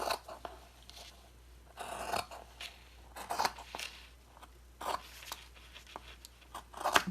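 Scissors snip paper pieces for a mixed media journal, with a series of close, crisp cuts and rustles in irregular bursts against a quiet background.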